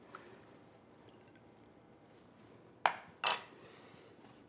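A bowl of kosher pumpkin chili and a spoon are handled on a table, a few sharp close clinks of metal against dish after a quiet stretch, with no talking.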